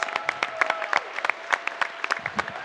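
Scattered clapping from a small crowd at Awesome Games Done Quick 2017, irregular and fairly quiet, with individual claps distinct rather than a dense ovation.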